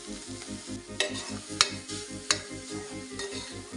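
Beans frying with garlic, oil, salt, turmeric and chili in a home kitchen, a steady close sizzle with rhythmic stirring scrapes and a few sharp clinks of a utensil against the pan.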